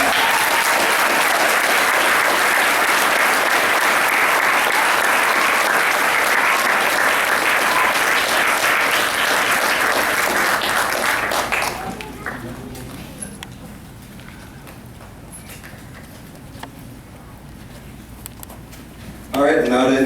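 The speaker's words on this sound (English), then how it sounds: "Give them a round of applause." An audience at a school instrumental music parents' night claps loudly and densely for about twelve seconds, then the applause fades to scattered claps and room murmur before a voice starts speaking at the end.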